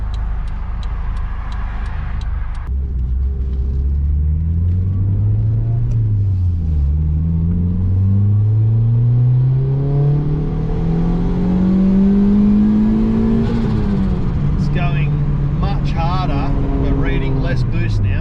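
A Honda turbo car engine running about 8 psi of boost revs hard and accelerates, its pitch climbing steadily through the gears with a brief dip at a shift. It sounds loud and close, with a voice talking over the engine.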